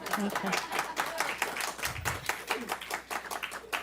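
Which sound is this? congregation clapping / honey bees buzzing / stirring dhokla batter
congregation clapping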